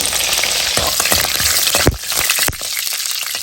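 Mustard seeds, chana dal, urad dal and cut green chillies frying in hot oil: a loud, dense, close sizzle with sharp crackling pops and a couple of stirring knocks, no talking.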